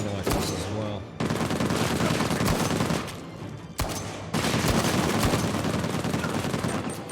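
Gunfire from snipers in the video game Uncharted: Legacy of Thieves, heard as loud, dense bursts of shots and booming reports in sustained stretches separated by brief lulls, with no talking.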